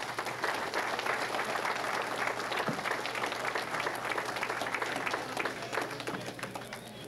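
Award recipients at a county cab company's annual meeting receive a long round of applause from the room, steady and full for about seven seconds, with a faint voice or two beneath the clapping.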